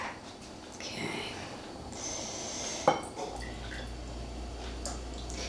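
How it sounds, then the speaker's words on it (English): Half-and-half yogurt mix poured slowly from a Pampered Chef pitcher into glass jars: a soft liquid trickle with a sharp clink of a jar partway through, then a low steady hum, with faint soft voices. "If I pour fast with this Pampered Chef pitcher, all goes everywhere."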